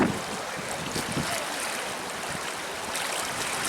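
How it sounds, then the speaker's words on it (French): Floodwater rushes through flooded streets in Angers, a steady, dense, close roar of churning water that holds an even loudness throughout, with no voices. "Écoutez l'eau qui brosse"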